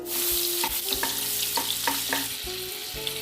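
Butter melting in hot oil in a pan sizzles steadily and close, broken by several sharp clanks and scraping stirs of a utensil, with no talking.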